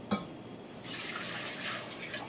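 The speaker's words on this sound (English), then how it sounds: "cover them with hot boiling water to blanch them" Hot boiling water is poured over grape leaves in a bowl, a faint, steady splashing rush that starts with a small knock.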